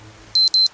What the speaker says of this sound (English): An alarm clock? How do I turn this stupid thing off? The sound is irritating.